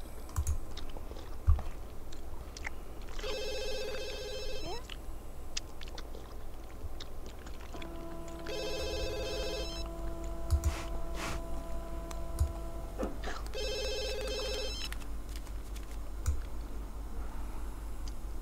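A telephone in The Sims 2 rings in repeated electronic tone bursts with pauses between, steady and moderately loud, over constant background noise and scattered clicks.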